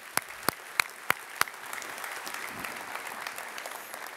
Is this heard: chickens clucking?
no